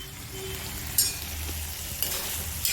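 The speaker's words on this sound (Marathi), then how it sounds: "गॅस वाढवलेला आहे जरा परतून घेते" Leafy dill greens and mixed vegetables stir-fry in a hot pan over a raised gas flame, giving a steady close sizzle with a few sharp utensil scrapes and clinks.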